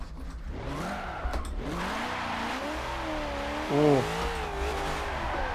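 A drift car in the Forza 7 racing game, driven with a Logitech G920 wheel, revs steadily with rising and falling engine pitch while tires squeal through the slide, loud and continuous, with a brief exclaimed voice.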